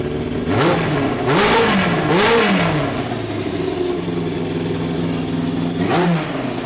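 A 1991 Yamaha FZR 1000 motorcycle engine idles close by after a spark plug change and revs up several times in quick succession, settling back to a steady idle before one last rev.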